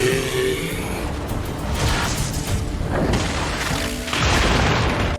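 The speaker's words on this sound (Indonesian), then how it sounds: "Mereka berdua langsung adu jotos menghasilkan ledakan yang besar" A big explosive blast from a superpowered fistfight in the Solo Leveling anime, loud rumbling booms and crashing bursts filling the whole stretch with a dense roar, swelling again near the end.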